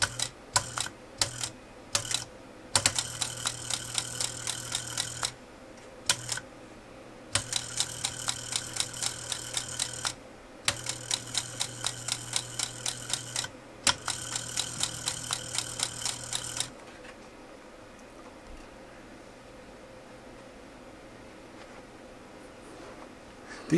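Late-1960s Solari split-flap display panels flipping as a motor turns the shaft and springs snap each panel over, giving a loud, rapid rattling clatter in bursts of ticks for about sixteen seconds, then a quiet hum.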